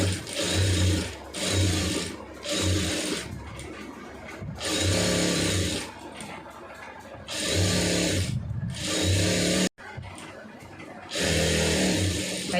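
Sewing machine stitching the lining of a blouse, running in steady bursts of rapid mechanical whirring separated by short pauses, close by, with someone talking over and between the runs.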